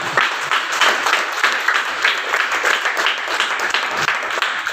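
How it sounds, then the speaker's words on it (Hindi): A training-session audience in Varanasi breaks into sustained applause, a dense and even wash of many hands clapping that stays loud and close for the whole stretch, with no speech over it. "बहुत बढ़िया, शानदार, एक क्लैपिंग कर दीजिए, जबरदस्त क्लैपिंग बोला था मैं"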